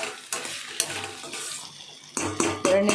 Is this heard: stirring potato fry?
yes